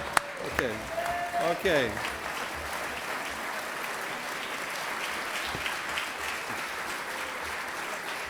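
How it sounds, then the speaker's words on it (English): Audience applause at a City of Orlando oath of office ceremony, a steady broadband wash of clapping that holds for the whole stretch, with a brief spoken word near the start. "I want everybody to stand up and give him a round of applause."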